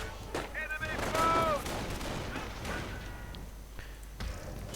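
Gunfire from FG-42s and rifles in a World War II strategy game match, Fallschirmjäger against Panzer Grenadiers: sharp overlapping shots and thuds over a steady battle din, with tonal game effects and a continuous bed of combat noise.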